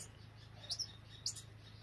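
Young hawks growing new feathers give two short, faint high chirps about half a second apart over a steady low hum.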